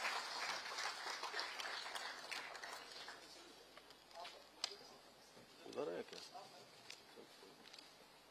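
Crowd applause welcomes the Chief Minister of Uttarakhand at an International Cooperative Year 2025 event, steady clapping from a large audience with some scattered sharper claps and a brief voice mixed in.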